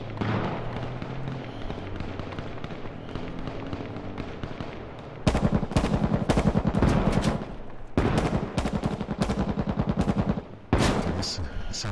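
Gunfire from a fight in the H1Z1 battle royale video game: rapid bursts of automatic shots in several volleys, moderately near, with quieter background noise between them.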